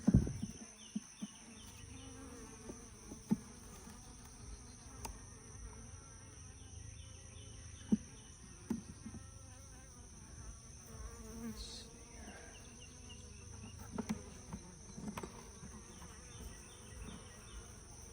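Honeybees buzz steadily around an opened beehive frame during a hive inspection, a dense continuous drone with a few soft clicks and handling knocks, close and constant with no talking.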